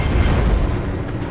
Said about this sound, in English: Try to get her with the cannon.